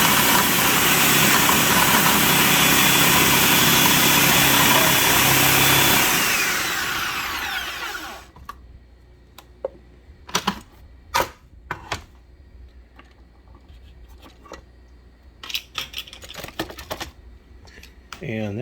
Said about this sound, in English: they go straight into the food processor